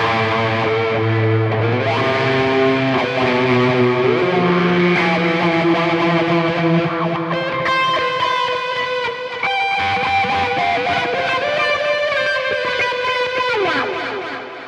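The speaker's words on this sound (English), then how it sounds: "I'll play the wah for you." Distorted electric guitar through a Zoom G6 multi-effects processor plays a melodic line with sweeping, vowel-like tonal changes from a wah effect, loud and continuous with sustained notes and slides.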